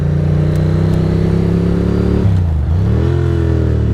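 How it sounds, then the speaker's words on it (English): Close, loud, constant drone of a Ducati motorcycle engine with almost 17,000 miles, ridden on cold tires, dipping in pitch as the engine brakes, then settling back. "Engine braking, twist to the wrist."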